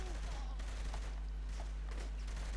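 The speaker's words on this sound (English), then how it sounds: "Who's shooting?" Bursts of rapid gunfire crackle in the Saints Row 3 video game, fairly quiet and somewhat distant, over a constant low hum with a voice murmuring in the background.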